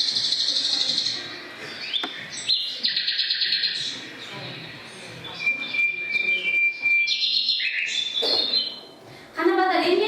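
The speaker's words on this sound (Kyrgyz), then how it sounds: "Чымчык сайратқан." Birds chirp and tweet in a classroom, with bright, high calls repeating throughout at moderate loudness and voices murmuring faintly underneath.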